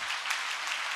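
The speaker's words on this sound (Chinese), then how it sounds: "我们拍手给上帝" Church congregation clapping together during a Sunday service, a short, dense burst of steady applause with no voices.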